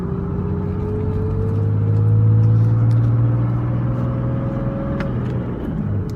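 A Cummins diesel pickup with a G56 manual gearbox and twin-disc clutch pulls away in second gear, the engine note rising smoothly then easing off, fairly loud and steady, no talk.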